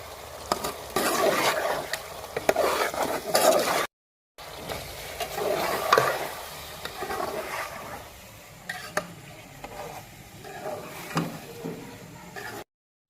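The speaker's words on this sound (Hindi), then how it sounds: "अब हम इनको मसाले को डाल के अच्छे से हम भूनेंगे।" Chicken karahi with spices is stirred and fried in a wok, giving a steady close sizzle with scraping and clinking of the utensil, broken by a short silent gap and continuing unevenly without talk.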